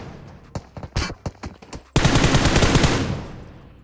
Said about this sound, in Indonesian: Kembali tembak Mek, kembali tembak Mek.